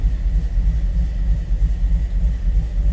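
A 1929 Ford Model A street rod runs close by, its engine a deep, steady low rumble with a gently pulsing throb and no voices over it.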